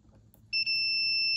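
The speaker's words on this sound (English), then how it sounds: "you get a beep. So you know you've got continuity between the two." A multimeter set to continuity gives a sharp, steady high beep. It starts suddenly after a quiet moment and keeps going until the end, loud and close, with nobody speaking.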